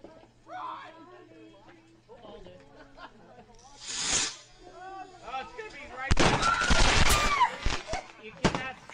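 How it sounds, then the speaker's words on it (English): Botched backyard fireworks launch: a rising hiss, then a chaotic volley of loud bangs and crackling bursts close by, with people's voices talking and shouting around it. "Fireworks failure from last year."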